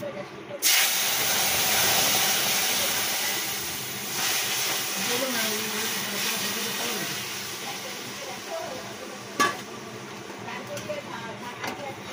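Hot oil sizzling as spices are tempered for a sour mango and masoor dal, a sudden loud hiss that gradually fades, with a sharp clink near the end.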